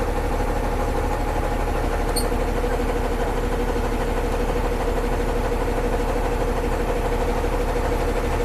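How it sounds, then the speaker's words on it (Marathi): Vehicle engines idle steadily in traffic halted at a railway crossing, a constant low rumble with mid-range vibration filling the whole stretch, close and fairly loud, with no voices. "आता हे थांबले असे ट्रॅफिक इथे रेल्वे मार्गावरच."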